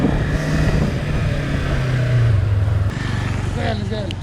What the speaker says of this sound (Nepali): कस्तो रिफाइन इन्जिन